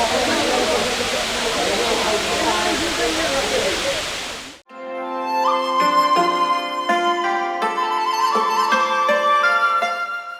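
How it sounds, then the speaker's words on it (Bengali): Shuvolong waterfall in Rangamati, Bangladesh, pouring during a sudden heavy downpour: a loud, steady rushing roar of falling water mixed with rain for about four and a half seconds, then cut off abruptly as music takes over. "ঝর্ণার পানির সাথে মিশে বৃষ্টির ছন্দময় শব্দ চারপাশকে করে তুলল"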